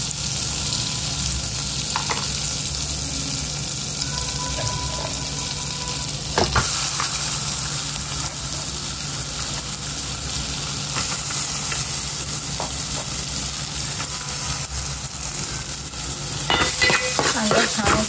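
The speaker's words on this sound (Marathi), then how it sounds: "हे बटर जसं वितळेल तसं त्याच्यामध्ये आपण आपला कांदा टाकूया।" Chopped onion fries in melted butter in a pan for pav bhaji, giving a steady loud sizzle with occasional stirring scrapes and clinks throughout.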